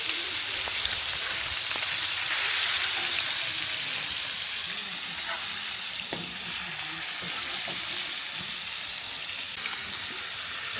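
Pangas fish fries in oil with a loud, continuous sizzle, dense crackling and spattering pops, close and steady from start to finish.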